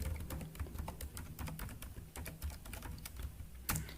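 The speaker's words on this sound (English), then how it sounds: "When you're typing a password, it will not appear, but it will be captured." A password is typed on a computer keyboard as a rapid irregular run of close, crisp key clicks, steady for several seconds with a louder keystroke near the end.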